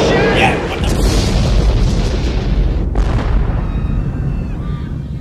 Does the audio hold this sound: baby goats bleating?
no